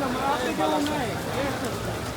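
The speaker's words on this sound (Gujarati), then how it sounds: "વરસાદ ધોમ ચાલુ છે" Steady heavy rain pours down in a dense hiss at Salasar Balaji temple, with people talking underneath.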